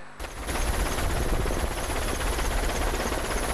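A helicopter is heard close by in flight, its rotor throbbing loud and steady after an abrupt start, with no voices.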